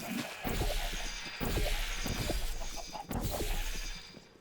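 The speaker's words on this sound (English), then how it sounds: "Chickens, go away." Chickens in the Minecraft video game cluck repeatedly in short bursts close by, with a few dull thuds mixed in and no talking.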